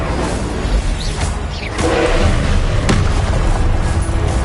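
A fire spell, Incendio, cast in the video game Hogwarts Legacy: a loud whooshing burst swells into a sustained roaring blaze with booming impacts, flaring again near the end over dense game effects.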